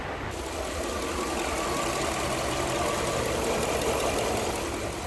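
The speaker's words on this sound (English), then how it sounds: "take it for a quick spin around the parking lot, Jeff" A car engine runs steadily during a short drive around a parking lot and the block, a dense continuous rumble and road roar heard from inside, loud and unbroken with no voices.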